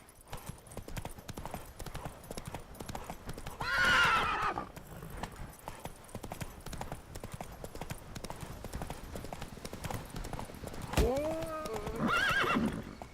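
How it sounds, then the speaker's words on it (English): A horse trotting with steady clip-clop hooves and two loud whinnies, one near four seconds and another near eleven, in The Witcher 3 video game, with quiet game ambience underneath. "Whoa there, Roach"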